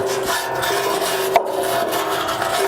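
A wire brush scrubs loose rust and dirt off the bumper of a 1966 Buick Riviera, giving a steady close rasping scrape with one sharper knock near the middle.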